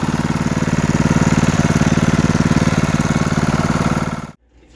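A trash-found 196cc Honda small engine being built for high revs runs at a steady, loud, close idle with a continuous rhythmic chug, then cuts off abruptly near the end.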